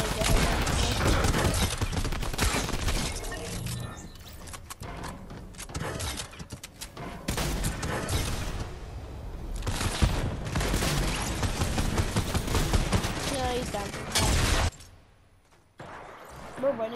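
Rapid bursts of gunfire in a first-person shooter video game crackle loudly in dense volleys with short lulls between them, ending in near silence.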